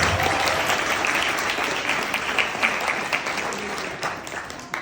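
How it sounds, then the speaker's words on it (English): An audience at a Sunday School graduation ceremony claps in a dense, sustained round of applause that fades slightly toward the end with a few louder individual claps. "can we give them a big round of applause?"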